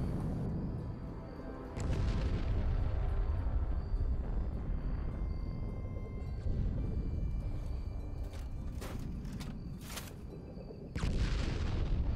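Orbital strike explosions in Fallout 76 boom in long, heavy, rumbling waves, loud and continuous, with sharper cracks and blasts breaking through near the end.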